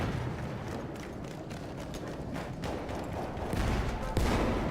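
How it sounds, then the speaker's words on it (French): Dense, rumbling explosions with crackling bursts of gunfire and missile strikes in Battlefield 1, a continuous chaotic din that swells louder toward the end. "Ouh, j'aime les explosions."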